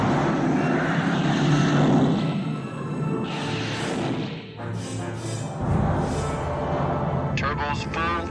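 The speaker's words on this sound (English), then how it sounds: "When I hit three, you hit your reverse thrusters and maximum braking flaps." Spacecraft reverse thrusters fire in the 1978 Battlestar Galactica, a heavy, continuous engine roar that dips briefly midway and surges again, with a voice briefly heard near the end.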